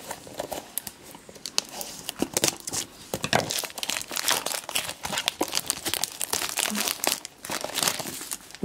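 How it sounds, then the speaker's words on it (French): Plastic wrapping crinkles and crackles continuously as it is pulled off mystery minis toy packaging, with a few snips from small scissors and tearing sounds, close up and busy throughout. "j'ai pris mes petits ciseaux pour retirer le petit plastique"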